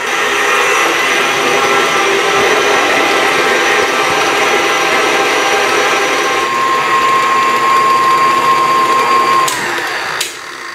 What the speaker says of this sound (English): I'm going to mix this on about a medium until it starts getting fluffy